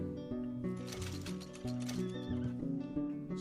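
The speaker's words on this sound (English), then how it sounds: "King Arthur had a female horse named Lamray, so that's what my new mare is going to be called." A mare whinnies in the video game Red Dead Redemption 2, a loud, close, wavering neigh that lasts several seconds, with hoof clip-clop underneath.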